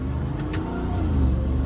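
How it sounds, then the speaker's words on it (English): A Ram TRX pickup with Valvetronic Designs universal mufflers idles and rumbles with its valves closed, a muffled, steady low engine drone heard from nearby, with a couple of faint clicks early on and no talk. "I'm going to show you guys what the truck sounds like with the valves closed compared to when it's open"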